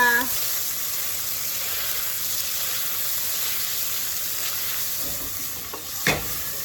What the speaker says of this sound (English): this is just some thick cut bacon that I'm cooking down